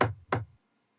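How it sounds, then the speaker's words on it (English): Two sharp knocks on a door, close and loud, a quick pair about a third of a second apart, followed by silence. "I knock on the door."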